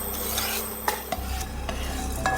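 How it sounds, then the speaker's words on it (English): Sichuan peppercorns dry-toast in a pan, giving a soft rustling hiss with a few light scrapes and clicks as a spatula stirs them, close by and without speech. "just gently bake it in the pan. You're just trying to get the flavor out from this tiny pepper."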